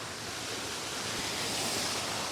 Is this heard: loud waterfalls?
yes